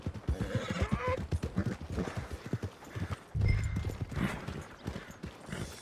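Horse hooves clip-clop in a quick trotting rhythm in the video game Red Dead Redemption 2, with a horse whinnying partway through, fairly close and moderately loud.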